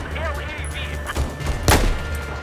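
An M98B sniper rifle in Battlefield 4 fires a single sharp shot partway through, under and alongside a player's talk and background game noise.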